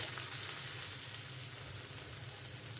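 Chopped onions, three medium ones, fry in a pan with garlic for a home-style egg curry, a steady, even sizzle that holds at the same level throughout with no voices.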